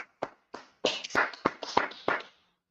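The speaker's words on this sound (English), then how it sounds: "Let's clap that up." A small group at a Bible class claps in a short, sparse burst of about seven distinct claps that speed up a little before stopping, heard in a quiet room.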